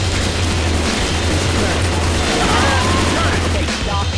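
Dense Left 4 Dead 2 survival-mode gunfire, steady overlapping rapid shots with a constant low game drone underneath, loud and continuous throughout, with voices talking over it.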